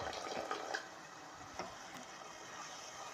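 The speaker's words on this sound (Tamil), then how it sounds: "இப்போது கொஞ்சமாக தண்ணி ஆட் பண்ணிக்கலாம்." Water is poured into a pan of spinach and masala, a faint splashing trickle with a few brief sharper clinks, soft and close with no talking.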